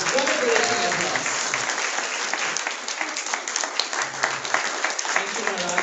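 An audience applauds to welcome Bhaktimarga Swami onto the stage at his 70th Vyas Puja celebration, a steady, dense patter of many hands clapping that continues throughout.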